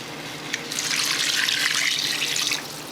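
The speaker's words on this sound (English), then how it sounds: "And I'm gonna start adding water." Tap water pours steadily into a cooking pot while making sausage soup (sopa de salchichón), a close hissing rush that runs for about two seconds and then cuts off, with no talk.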